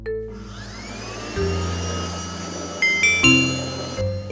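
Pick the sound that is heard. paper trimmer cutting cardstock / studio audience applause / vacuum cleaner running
vacuum cleaner running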